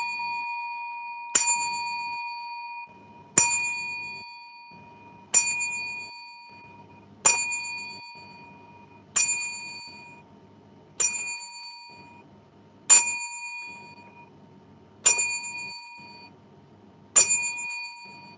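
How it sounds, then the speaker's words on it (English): A bright ringing bell struck in tribute at a wrestling podcast, nine to ten clear single dings at a steady pace about two seconds apart, each decaying slowly, loud and alone. "As we hold the bell 10 times to dedicate one of the best wrestlers."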